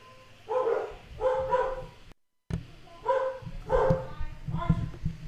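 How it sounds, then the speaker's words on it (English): Dogs barking indoors in repeated loud bursts of a few barks each, close by, with a brief cut partway through. "our dogs are going crazy again"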